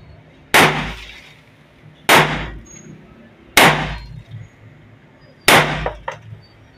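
Homemade 30 bore pistol test fired outdoors: four sharp, loud blasts spaced about one to two seconds apart, each with a quick decaying echo and no talking.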